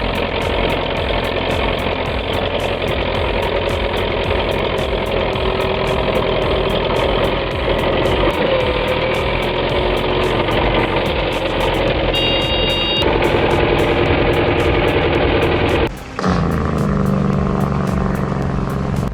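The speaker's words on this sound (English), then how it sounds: "This thick peat locks the wheels deep, leaving the tractor powerless to get free." An MTZ-82 tractor stuck with its wheels locked deep in thick peat. The engine drones steadily and loudly throughout, close to the microphone, with a sharp change in the noise near the end.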